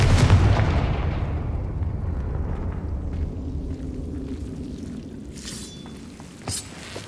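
A Confringo fire spell explodes in Hogwarts Legacy with a heavy rumbling boom that slowly decays, followed by fainter crackles and a short sharp burst near the end.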